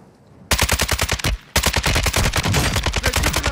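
Automatic gunfire in Call of Duty: Modern Warfare II, loud and close: a rapid burst of evenly spaced shots, a brief pause, then a second longer sustained burst.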